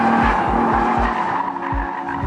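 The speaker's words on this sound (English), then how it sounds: "This car will slide on power" Nissan GT-R Black Edition sliding under power on a track, its tires squealing in a sustained high whine over loud engine roar, with repeated low gearshift-like pulses through a couple of seconds.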